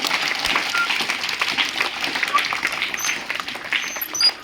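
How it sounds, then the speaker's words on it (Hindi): Children in a classroom clap together, a scattered patter of applause running steadily for several seconds with some voices mixed in. "क्लैपिंग करो बच्चे के लिए। ताली बजाइए।"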